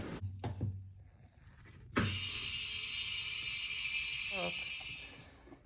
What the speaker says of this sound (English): All right, I hear the pumps running.